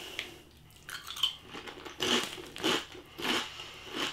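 Smith's Scampi Fries crisps are bitten and chewed close to the mic, giving a series of sharp crunches in an irregular rhythm that start sparse and grow more frequent, with no talking.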